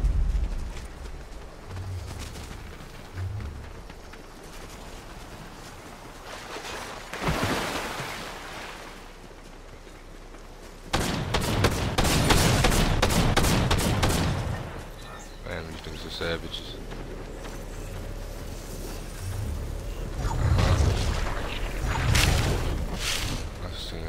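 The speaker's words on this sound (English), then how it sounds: "Shots coming from way too many directions." Rapid bursts of gunfire in a Fortnite battle, a cluster of loud close shots followed by scattered volleys in the middle, with players talking over the action throughout.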